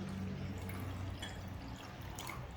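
A cup of water is poured into a Chicken Manchurian sauce mixture of vinegar, chili sauce and soy-honey stir fry sauce, giving a soft, steady liquid splash and trickle, quiet and close, with no voices.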